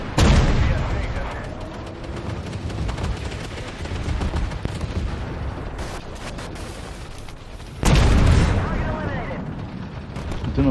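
A tank gun fires in the Armored Warfare video game with a T-14 in play: a sharp, loud blast opens, a second booming shot lands partway through, and continuous rumbling battle noise fills the gaps between them.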